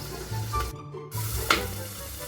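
Pork giniling (ground pork) with a mixed-vegetable blend and bay leaf fries in its own rendered fat, giving a steady close sizzle with a brief utensil clatter partway through.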